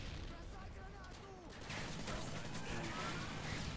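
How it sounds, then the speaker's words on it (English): Gunfire in the video game Modern Warfare 2, a dense, continuous crackle of shots and explosions that grows louder partway through, with someone talking over the noise. "I'm just running around shooting"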